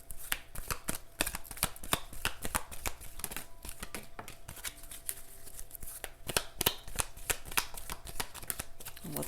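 Tarot cards being shuffled in the hands, a quick run of crisp riffling snaps and soft slaps that repeat steadily throughout, close up and alone with no talking.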